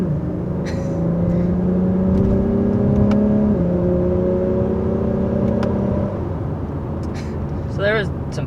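A 2021 Acura TLX Type S with a 10-speed automatic pulls hard under acceleration, its engine note rising in pitch through a sustained run with a couple of quick gear changes, loud and close, with a voice talking over it near the end.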